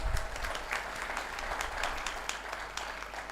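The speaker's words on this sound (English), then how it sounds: "A huge round of applause for her." Sustained audience applause fills a lecture hall, a dense, steady patter of many hands clapping at moderate level with no pauses throughout.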